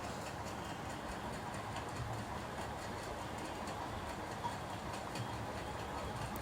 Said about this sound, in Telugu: ట్రైన్ అయితే వచ్చేసింది.